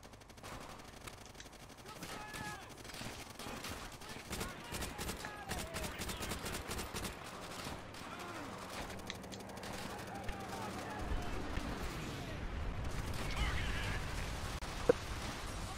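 Gunfire in the World War II shooter Call of Duty: World at War, with bursts of rapid shots and explosions across a busy battle mix, fairly loud, while someone talks over the action.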